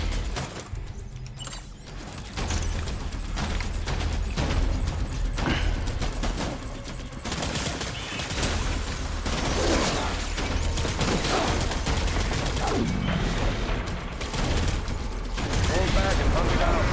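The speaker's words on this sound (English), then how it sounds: "Shit, I was taking a lot of shots." Dense bursts of gunfire and crackling shots in the video game Death Stranding, Director's Cut, sustained and loud for most of the stretch, mixed with in-game voices.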